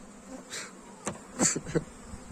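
Honey bees on brood frames of an opened hive in April, with brief, faint, close buzzing passes as individual bees fly near, over a quiet background.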